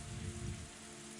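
Heavy rain downpour in the visual novel Higurashi When They Cry: a dense, steady hiss of rain drumming on a surface with a low rumble underneath, faint and continuous, with no voices.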